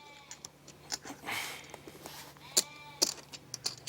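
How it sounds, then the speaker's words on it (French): Sheep bleating in the background of a poker game broadcast, with several short faint cries spread across a few seconds, sitting distant and low behind the table audio. "On entend le mouton en fond sonore."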